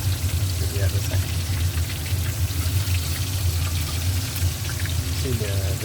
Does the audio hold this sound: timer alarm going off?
no